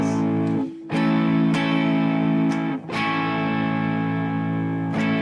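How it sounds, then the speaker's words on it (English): An electric guitar runs through an Ernie Ball expression pedal with the toe down, giving a sustained, moderately crunchy overdrive rather than heavy distortion; loud chords ring out, separated by a few brief gaps and re-strums. "It's not as heavy as I thought it would get, but it's not a distortion. It's an overdrive"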